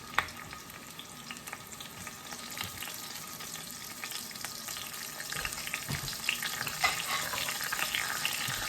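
Bay leaves and garlic sizzle softly in hot oil in a pan, a steady quiet crackle with occasional small pops and stirring, no voices over it.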